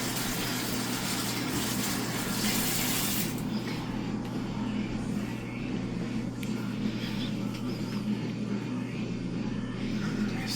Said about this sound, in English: So I'm just going to wash my hands because they're a little greasy